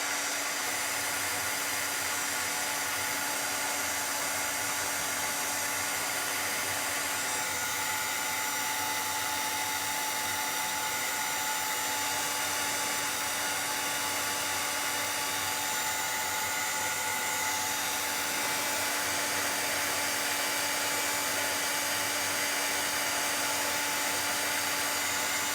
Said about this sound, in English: Let me run the dryer over this real quick because I don't want it to turn pink.